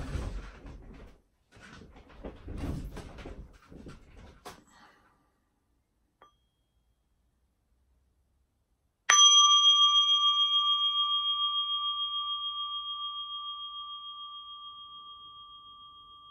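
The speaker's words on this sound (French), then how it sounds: "Juste le temps que je récupère ma cloche." A meditation bell is struck once after some quiet talking and a long silence, giving a clear bright ring that lingers and fades slowly over several seconds.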